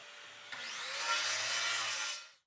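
A miter saw slicing a wooden board for a six-pack holder build, one loud close cut that whines up sharply, holds a bright screaming rasp for about a second and a half, then spins down.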